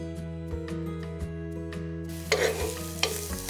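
Red and green chilies dropped into hot oil for tempering, a sudden bright sizzle bursting in midway over a steady tonal background, with a few stirring knocks.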